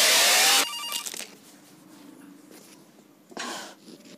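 A telephone in a horror video game rings in two loud, shrill bursts, one at the start and one near the end, with quiet faint noise in the gap.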